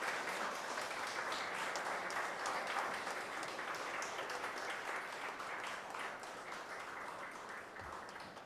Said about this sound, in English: give a standing ovation and a big round of applause to our alumni